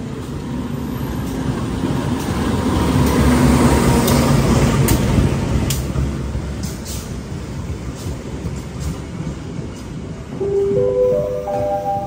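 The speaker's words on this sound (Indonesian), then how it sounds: "jadi itu dia kereta api Progo yang akan saya naiki masuk di stasiun Cirebon Perujakan" The Progo passenger train rolls into Cirebon Prujakan station with a loud, rumbling approach that swells and then eases as it passes close by, ending with a rising whine or horn-like tones.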